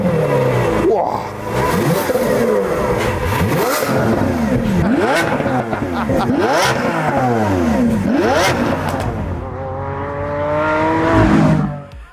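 A Lamborghini 6.5-litre V12 revs hard through a new exhaust system, repeatedly rising and falling in loud, sweeping surges with crackling overrun, ending in a final high rev.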